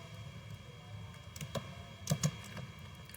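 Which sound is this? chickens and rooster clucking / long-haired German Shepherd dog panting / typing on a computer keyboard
typing on a computer keyboard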